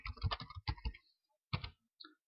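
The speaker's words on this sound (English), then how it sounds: "Let me type location and make up a location." Typing on a computer keyboard in Microsoft Word 2013, a quick burst of close, soft key clicks, a pause, then a few more taps and a single faint click in a quiet room.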